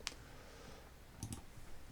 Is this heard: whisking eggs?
no